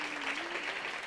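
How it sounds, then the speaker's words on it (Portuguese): Applause from an audience at a Brazilian chamber event on contemporary slavery, a brief, even wash of clapping heard at moderate volume, with a faint tonal hum beneath and no talk. "Palmas para ele,"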